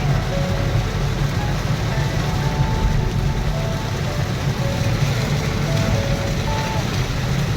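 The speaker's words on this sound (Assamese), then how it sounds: "ৱাইফাৰ ফুল স্পীডত দিয়াৰ পাছতো ভালকৈ নেদেখা হৈছে, ইমানে জোৰকৈ বৰষুণ দি আছে" Heavy rain drums steadily on a car while driving with the wipers at full speed, a dense, loud, unbroken wash of noise that holds from start to finish.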